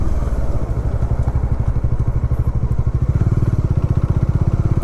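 A Bajaj Dominar 400 and a KTM 390 Adventure ride near Bandipur National Park, one engine thudding loud and close in a steady, fast pulse that quickens slightly toward the end, with no talk.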